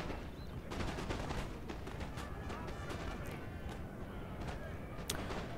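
Rifle volleys crackle in the video game Napoleon: Total War, with dense, continuous scattered musket pops and bursts over a steady loud battle roar, and someone talks over them.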